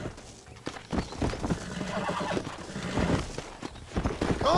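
A horse in Red Dead Redemption 2 whinnies and snorts loudly up close while hooves clip-clop during a roundup, with continuous busy game ambience and no talk.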